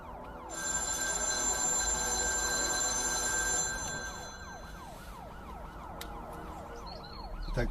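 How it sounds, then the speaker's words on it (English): A telephone rings in a film scene, a repeating warbling electronic tone that continues steadily for several seconds, fairly loud with a steady background hum and no talking. "Detective Hatcher's phone."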